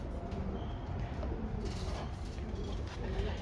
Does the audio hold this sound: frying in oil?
no